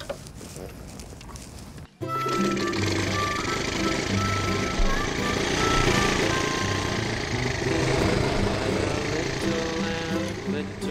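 A Honda Dax ST70 Serizawa small motorcycle engine starts up after a brief quiet moment and runs steadily at close range during a test ride, its harmonic buzz loud and continuous.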